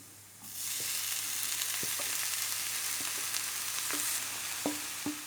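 Cooked fish eggs frying in masala in a pan, a steady close sizzle with a few sharp clinks of a spoon against the pan, no voices.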